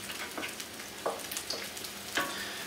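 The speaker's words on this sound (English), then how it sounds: "So we'll put those in, give them a good stir," Butterbeans are stirred into a sauce in a pot for a slow-cooked lamb shank cassoulet, giving a soft bubbling sizzle with a couple of distinct scrapes of the spoon, close and without talk.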